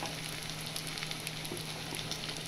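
Curry leaves hit hot oil in a frying pan with sautéed onion and coconut, giving a steady, close crackling sizzle that holds evenly throughout without any voices.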